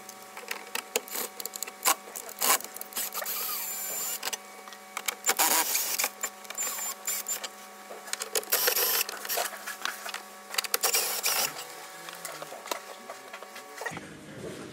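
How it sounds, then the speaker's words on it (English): Four 10 mm screws being backed out of a car stereo mount in a 2017 Toyota Sienna dashboard, heard as faint intermittent ratcheting clicks and whirring bursts with small handling taps, no talking. "we're gonna go ahead and just take off these four screws"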